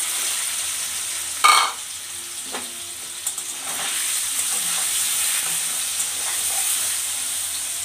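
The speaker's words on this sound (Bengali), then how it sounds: "পনিরগুলো আমি ভালোভাবে ভেজে নিব" Paneer frying in a wok with turmeric and salt, an even close-up sizzle and hiss with a sharp spatter at the start and a few soft scrapes, no one speaking.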